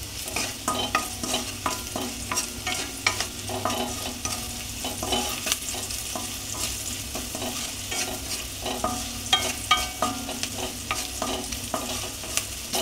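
Onions salted and frying in a pan, stirred steadily with a spoon, giving a continuous close sizzle broken by frequent scraping strokes, with no voices.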